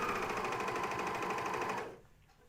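Coverstitch machine sewing a pajama top, a steady fast mechanical whir that runs for about two seconds and then stops, leaving faint room noise.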